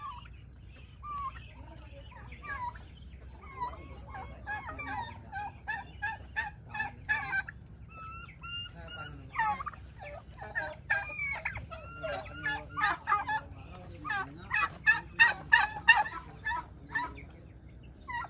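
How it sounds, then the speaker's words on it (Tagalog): Turkeys on a rural Filipino farm gobble in rapid bursts, several birds calling close by, the calls growing denser and louder toward the end over a low background hum. "Ang masarap na pabo."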